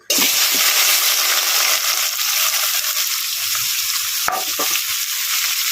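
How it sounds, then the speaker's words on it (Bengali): Onion, garlic, ginger and tomato sautéing together in a pan, a loud, steady sizzle throughout with occasional stirring scrapes. "দেখো পেঁয়াজ রসুন আদা যেটা ঘষে নিয়েছি আর নিয়েছি একটা টমেটো সব দিয়ে একবারে কষাবো"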